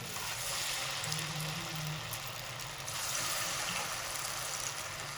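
Dahi vada batter fries in hot oil over medium heat, a steady, fairly loud bubbling sizzle that continues evenly throughout with no talking.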